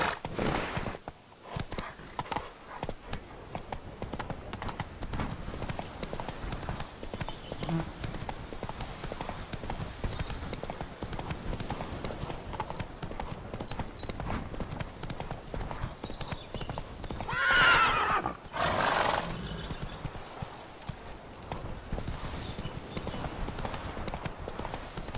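Roach, a horse in The Witcher 3, clip-clops steadily at a walk close by, hooves thudding throughout, with a short neigh or whinny rising near the end amid ambient game sounds and brief speech.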